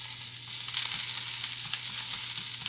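Onion going into a pan of small potatoes frying in oil, giving a steady, close hiss with a few brief crackling bursts and no talk.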